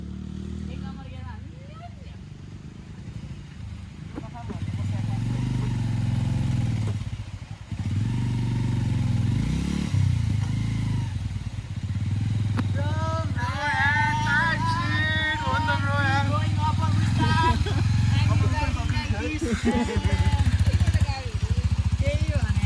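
A motorcycle engine revs and labours unevenly while riding off-road on a rough trail toward Dhap Dam, loud and close throughout, with riders talking over the motor.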